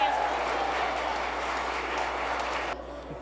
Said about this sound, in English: Can I get an applause or some sort of reaction from the audience?